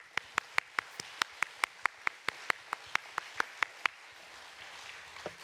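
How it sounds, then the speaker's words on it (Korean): A church congregation claps together in quick, even unison, producing a steady run of sharp, fairly soft claps that stop after about four seconds, leaving a quiet room. "우리 하나님께 영광의 박수를 해드립시다"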